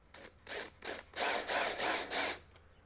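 A screw being driven into a sheetrock wall to mount a garage door opener part, heard as several close, rhythmic rasping grinds in short bursts that grow slightly longer before stopping.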